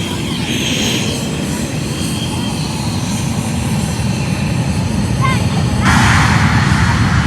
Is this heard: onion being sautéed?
no